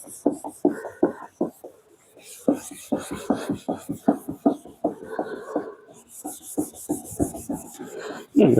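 Hand sanding of a car headlight lens during restoration, short rasping strokes in uneven bursts with brief pauses, close and fairly quiet, no talking.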